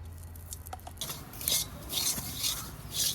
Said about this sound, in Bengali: ঘিয়ের মধ্যে আগে সুজিটা মা ভেজে নিচ্ছে